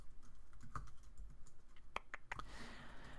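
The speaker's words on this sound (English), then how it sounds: "we just type in our variable" A few scattered keystrokes on a computer keyboard while entering a variable into CodeIgniter email code, quick light clicks at moderate distance with no talking.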